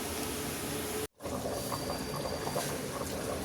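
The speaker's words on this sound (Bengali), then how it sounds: "এখন এভাবেই আমি খালি সিদ্ধ করে নেব" A pot of beef nehari simmers and boils on a stove, making a steady, dense bubbling wash that runs throughout. It breaks off for an instant near the start and then carries on, close and fairly loud.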